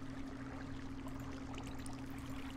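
Water flows steadily in a Survival Islands game world, a faint, even rushing stream with no breaks over the short stretch.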